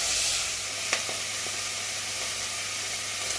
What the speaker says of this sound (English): You just want to fry the meat, get it nice and brown in the oil.